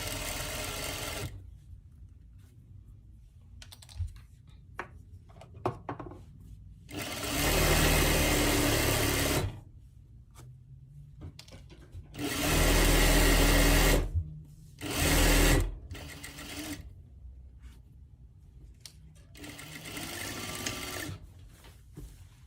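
A sewing machine stitches fabric in several separate runs of loud, fast mechanical whirring, each lasting a few seconds, with quiet gaps of small handling clicks between them.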